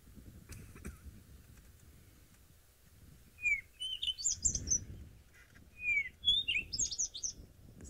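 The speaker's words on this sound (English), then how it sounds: "Cape Robin." Cape Robin song played from a recording: clear, sweet whistled phrases in short bursts, repeating several times, fairly faint against a quiet outdoor background with low rustling.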